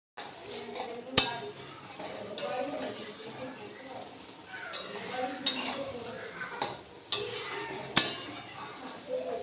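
A cooking pot is scrubbed in a basin sink, with a rough, continuous scraping broken by several sharp metallic clanks and knocks as the pot shifts against the sink.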